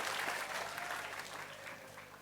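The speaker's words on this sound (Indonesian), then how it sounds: "Yo, tepuk tangan untuk Galo, tepuk tangan." Audience applauding at an Islamic study gathering, a dense wash of clapping that starts strong and gradually thins toward the end, with no voices over it.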